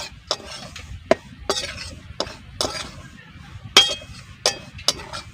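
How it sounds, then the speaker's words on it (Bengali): A spoon stirs rice flour as it dry-fries in a pan for soft palm fritters. About eight sharp scraping clinks come at irregular intervals, close and clear, with no talk. "তিন মিনিট মতন সময় ধরে কিন্তু নেড়ে নেড়ে আমি ভেজে নিয়েছি"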